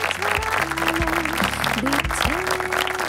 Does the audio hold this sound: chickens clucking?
no